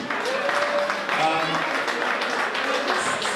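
Guests at a Christmas party applaud in a lively room, a continuous patter of clapping mixed with chatter and cheering voices, with some tonal whoops rising above the crowd.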